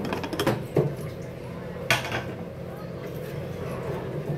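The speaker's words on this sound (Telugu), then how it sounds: "మూత పెట్టేద్దాం." Lid set onto a cooking pot while preparing Telugu tella galijeru (punarnava) pappu, a few quick metallic clinks and one clear clank against a pot, with someone speaking over the kitchen noise.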